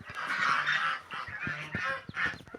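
Geese at a restaurant's poultry area honk repeatedly and close by, a busy flock calling over one another in short overlapping bursts with no pause.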